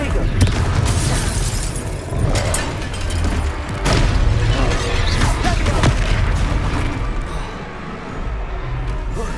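A Confringo fire spell from a wand explodes during a battle in Hogwarts Legacy, heard as a series of loud, deep booms and bursts over a constant roaring rumble.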